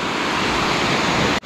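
Broadband rushing river water at Jeram Berungut roars steadily and close, filling the whole moment without voices before cutting off abruptly at the end.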